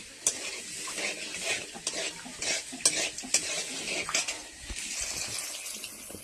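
Onions frying in a pan with whole spices including cumin and nigella, stirred with a utensil: continuous sizzle broken by repeated scraping, clattering strokes at an uneven rhythm, close and fairly loud.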